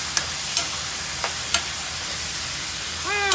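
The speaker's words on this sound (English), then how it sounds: "Gonna saute this down a little bit." Garlic sautés in a pan for chile verde, a steady sizzle broken by a few sharp ticks of a utensil and a squeaky scrape near the end, with no speech.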